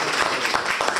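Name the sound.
audience applause for scholarship students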